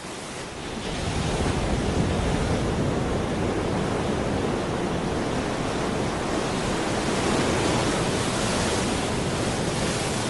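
Steady, full-bodied roar of ocean surf breaking at an African shoreline, loud and continuous with gentle swells in intensity and some wind rush, no voices.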